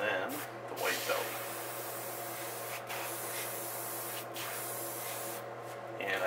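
Short bursts of an airbrush spraying white paint along the belly of a walleye crankbait, several hissing puffs of differing length over a low steady hum, close by.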